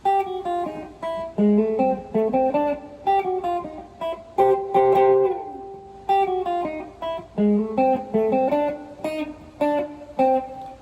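A clean electric guitar plays a lively single-note melody in short repeated phrases, loud and close, with no voices.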